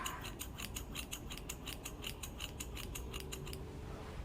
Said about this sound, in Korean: 이 부분에 머리를 잘라줍니다